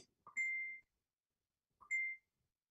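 Mobile phone message notification sounding twice, each a short rising chirp into a sustained bright electronic beep, about a second and a half apart, clear against near silence in a classroom setting.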